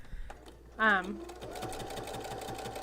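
A household sewing machine with a hemming foot stitches fabric, its steady motor whir and rapid needle rhythm running continuously for the second half after a brief sung or voiced tone.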